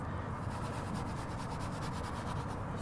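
Leather cleaner worked into leather with a brush makes a continuous, close scrubbing rub with quick repeated back-and-forth strokes, steady and fairly loud with no voice over it.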